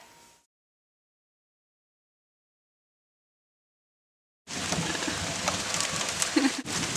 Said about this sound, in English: Oh, it's raining, like actually raining now.